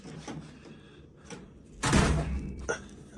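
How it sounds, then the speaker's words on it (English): A heavy hotel room door swings and closes with a broad whooshing thud in the middle, followed by a smaller knock, amid light handling noises and faint indoor background. "It's a heavy door."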